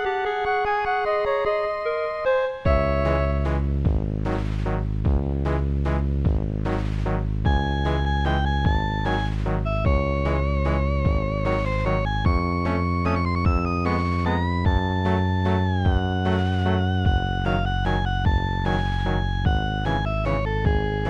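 A Famitracker chiptune using the VRC7 sound chip, voiced as clarinet, flute and reed organ, opens with a sustained tone, then moves into a steady, busy melody over a driving bass line, playing loudly throughout with no voices.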